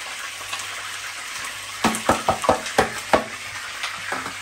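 Onion sizzles in a pan with pepper and salt, with a soft frying hiss under a burst of sharp, irregular stirring and scraping clatters close by, then quieter taps.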